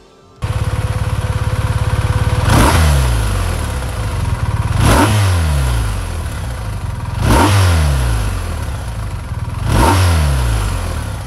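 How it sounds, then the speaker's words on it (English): A BMW R 1250 RT motorcycle revs from idle, its exhaust rising in four sharp throttle blips about two and a half seconds apart, each falling back to a steady idle, loud and close. "Coming up next is a bit of exhaust note."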